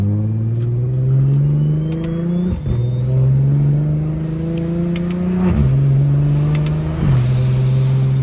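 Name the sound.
built BMW 335i engine revving with turbos, smoking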